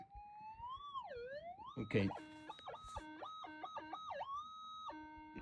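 A metal detector sweeps over a gold pocket in the Screamer Mine, giving a tone that rises and falls and then settles into repeated low steady beeps that drop off, with a brief clatter and one short spoken word.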